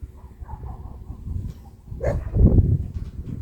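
A dog at an off-grid home in Mexico lets out a drawn-out, wavering howl that swells midway, fairly close, with low background rumble and no talking.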